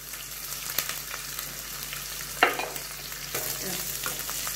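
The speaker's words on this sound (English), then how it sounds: "the green chili, garlic and the ginger. This has to be roasted very well." Green chili, garlic and ginger roast in a pan with a soft, steady sizzle, broken by occasional scrapes and clicks of stirring, quiet and close with no talking.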